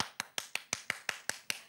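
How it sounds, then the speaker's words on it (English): A student in a classroom claps quickly, giving eight sharp, even claps in rapid succession. The claps are close and clear, with no talking. "He is clapping quickly."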